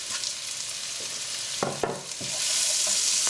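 Green chilies stirred into frying onions and spices in a pan, a steady sizzle with a couple of scraping spoon strokes midway, then the frying hiss swells louder.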